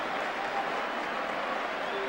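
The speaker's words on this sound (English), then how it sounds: "The crowd applaud him as much in relief as anything else." Football crowd at Aston Villa against Leicester City applauding the goal scorer, a steady wash of clapping and crowd noise throughout, with a commentator's voice faintly underneath.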